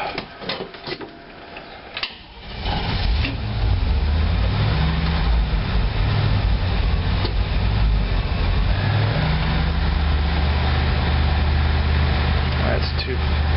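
A 1986 GMC Blue Bird bus engine with a rebuilt carburetor cranks and catches after a couple of seconds of clatter, then settles into a loud, steady, low rumbling idle close by, with a person talking at moments.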